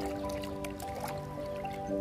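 Antifungal powder being stirred into a container of water for watering adenium plants, with soft drips, squishes and liquid swirling, close and quiet under a faint steady hum.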